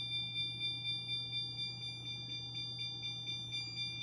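A fire alarm system in a house sounds a steady, repeating electronic tone with a regular pulsing rhythm, alongside a constant low hum, nearby and moderately loud with no talking.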